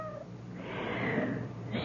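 A cat meows in a long, drawn-out, moderately loud cry that rises and falls over nearly two seconds, heard alone with a faint background hum.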